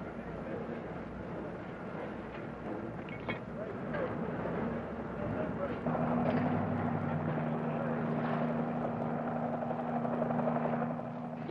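A helicopter flies at night during ship replenishment at sea, lifting a heavy slung load. Its steady rotor and engine drone holds throughout and grows a little louder and more tonal halfway through.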